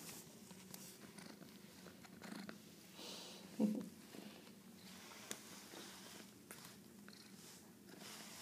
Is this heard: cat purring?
yes